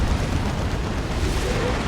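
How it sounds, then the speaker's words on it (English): Demolisher Cannon fire from an Imperial Guard tank in Warhammer 40,000: Dawn of War 2, a loud, dense explosive roar with a continuous booming rumble throughout. "Demolisher Cannon disrupts the Kommando."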